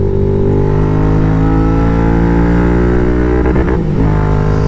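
A Royal Enfield Interceptor motorcycle with an S&S Qualifier 2-1 exhaust pipe revs hard, very loud and close, its engine note held high and then stuttering briefly at the rev limiter.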